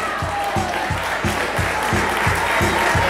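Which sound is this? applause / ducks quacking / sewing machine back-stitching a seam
applause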